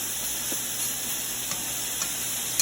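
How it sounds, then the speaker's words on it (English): Steak sears in a hot stir-fry pan, giving a steady close sizzle and hiss with a few faint pops and clicks from stirring. "You get a nice even sear in your steak."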